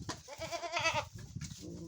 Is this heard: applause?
no